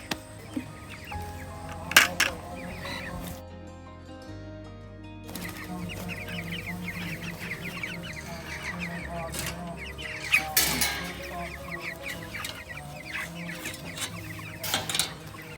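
Pasture-raised meat chicks in Ontario, Canada cluck and cheep intermittently at moderate distance, mixed with scattered louder peeps and occasional thumps.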